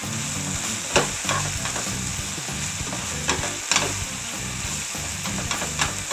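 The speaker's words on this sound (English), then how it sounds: "We want to brown this flour just a little bit" Flour browns with ground beef in a hot pan, a steady sizzle with scraping stir strokes and occasional louder pan knocks, close and continuous.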